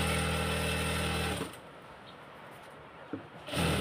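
Sewing machine stitching a salwar, a loud steady mechanical whirr that runs close up for about a second and a half, stops, then resumes briefly at the end.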